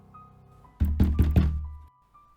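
Knocking on a window at night: a quick burst of four close, loud, hollow thunks against the glass, followed by quiet.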